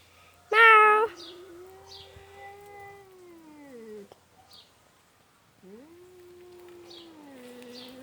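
A cat meows, with one loud sharp cry near the start followed by long drawn-out, wavering calls that rise and fall, alongside softer distant chirps in a quiet room.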